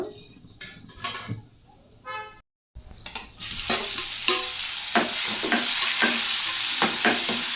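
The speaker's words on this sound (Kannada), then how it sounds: "ಮೆಂತೆ ಸೊಪ್ಪನ್ನ ಸ್ವಲ್ಪ ಹುರ್ಕೊಂಡ್ಬಿಡೋಣ" Fenugreek leaves stir-fry in a pan with steady sizzling and scraping stirs, after a few sharp clinks and a short silence, the frying growing loud and continuous.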